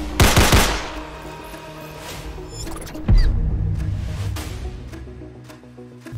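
Bulldog rifle firing in the video game Valorant: a loud close burst of rapid shots at the start, then a second sharp shot with a ringing decay and metallic clinks as the sound tails off.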